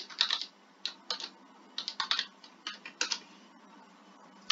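Typing on a computer keyboard during Red Pitaya Jupyter notebook coding: bursts of quick, light clicks near the mic, grouped into short runs separated by brief pauses, with no voices.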